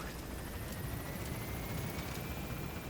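Helicopter rotor and engine drone from the Pequod support chopper in the video game Metal Gear Solid V, a steady loud broadband whir with no talk over it.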